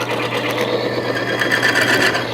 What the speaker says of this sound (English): that noise that you start to hear is actually the bearing surfaces being torn apart